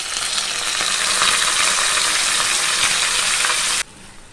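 Ground brinjal paste hits hot oil with curry leaves and asafoetida in a pan, giving a loud, close, steady sizzle that cuts off abruptly near the end.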